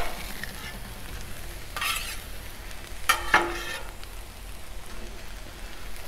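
Vegetables for a chorizo and egg burrito sizzling on a 36-inch Blackstone griddle, a steady soft frying hiss with a few scrapes of a spatula stirring them, close and moderately quiet, no talk.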